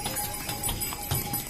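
Horses and mules walk on the Kedarnath pilgrimage path, producing a few soft, irregular hoof clops amid faint background murmur.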